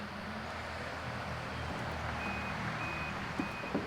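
A powered closure on a Ford F-150 Lightning pickup gives a couple of short, thin electronic beeps as it nearly shuts and reopens, faint over a steady background hum.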